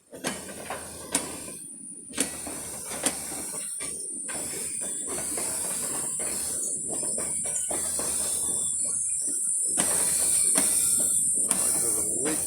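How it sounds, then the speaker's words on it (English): A steady, continuous hiss of air escaping from a leaking air hose on a train engine in East Olympia, Washington, running the whole time with a few brief clanks near the start. "There's a leak in the air hose."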